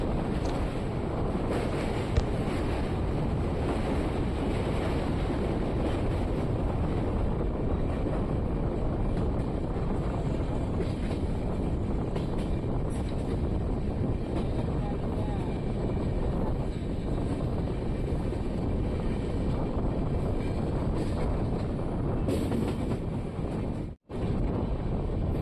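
A passenger train running toward Gowribidanur railway station rumbles in a steady, loud roar from inside the coach, with heavy wind buffeting and continuous rolling noise throughout and no voices.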